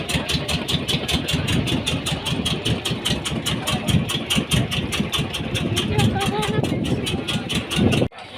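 A trawler's engine idling at a riverside dock, a close steady rhythmic chugging with regular pulses, running under people talking nearby until it stops abruptly at the end.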